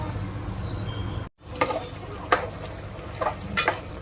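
Potatoes frying with masala for dabeli, with a soft steady sizzle close up and a few sharp scraping stirs and spatula clicks against the pan.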